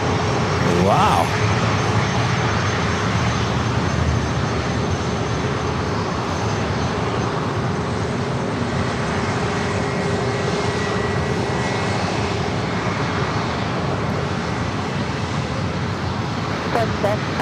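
A Southwest Airlines jet taking off from San Diego airport, a loud steady engine roar sustained throughout, with radio talk running underneath.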